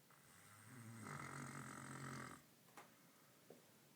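A man snoring loudly and close by, one long rasping, harmonic breath lasting about two seconds, followed by a couple of faint short snorts and quiet room noise.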